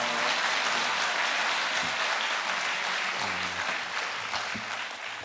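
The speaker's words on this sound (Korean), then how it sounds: "목사님 또 박수로 맞이하겠습니다" A church congregation gives a pastor a welcoming round of applause, a dense, loud, sustained clapping that fills the room and eases off slightly toward the end.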